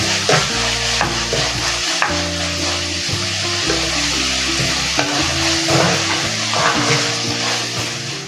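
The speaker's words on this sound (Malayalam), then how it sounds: "ഒരു ചെറിയ ടൊമാറ്റോ ഇതുപോലെ അരിഞ്ഞത് ഇതിലേക്ക് ചേർത്ത് നമുക്ക് നല്ലപോലെ വഴറ്റിയെടുക്കാം" Onion and chopped tomato sautéing in a pan for a Malabar fish curry, a steady sizzle with stirring scrapes and a melodic music bed running over it.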